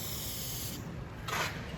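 Oil sprayed onto rusty axle nut threads on a 2014-2020 Jeep Cherokee during rear wheel bearing work, a close steady hiss followed by a second short burst of spray.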